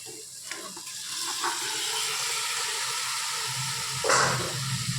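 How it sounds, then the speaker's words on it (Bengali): Chicken sizzles steadily in hot oil with lightly browned onions, a continuous close frying hiss with a brief louder burst of spitting near the end. "এবার পেঁয়াজের সাথে আমরা চিকেনটা একটু ভেজে নেব"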